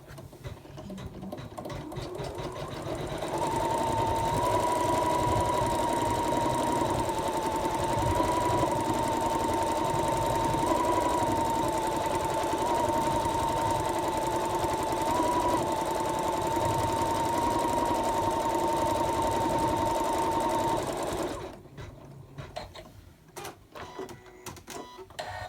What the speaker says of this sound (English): Which is just sewing down the outline of the gingerbread boy